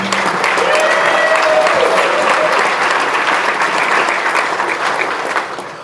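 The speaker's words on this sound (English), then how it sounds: "with your applause, please welcome the CEO and President, Lisa Brown from Loyalty Credit Union." An audience at a credit union meeting gives loud, sustained applause welcoming a speaker to the stage, with a faint voice under it before it tapers off.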